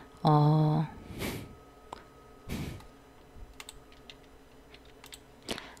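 Keyboard shortcut keys pressed on a computer keyboard during Photoshop work, heard as a few sparse, separated clicks with a short electronic tone at the start and quiet room noise between presses.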